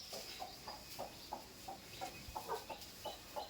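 Soft, steady clucking comes from a brooding mother hen that has hatched chicks, a quiet rhythmic run of short low calls repeating every fraction of a second with no talking.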